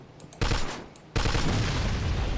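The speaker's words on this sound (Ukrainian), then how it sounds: "Прийдеться отак постріляти." Gunfire in the Mafia 2 DLC The Betrayal of Jimmy, a loud burst of shooting that starts abruptly, eases slightly, then a second, stronger sustained volley kicks in and continues dense and close to the end.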